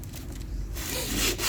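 Wood being sanded by hand with 220-grit sandpaper while a square frame is built: a short, close scratchy rubbing that turns brighter and more abrasive midway through the stroke.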